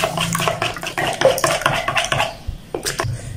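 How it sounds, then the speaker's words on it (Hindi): Eggs for an omelet being beaten in a bowl, a fast, busy run of clinking and tapping of utensil against dish, loud and close, with no talking. "ये आप जितना बीट करेंगे घंटे उसी हिसाब से ये नरम और फ्लफी बनेगा।"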